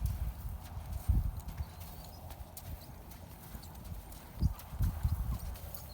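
A young training horse's hooves clip-clop during turnaround work, with scattered dull thuds and a few clustered hoofbeats over a quiet outdoor background. Faint talk sits underneath.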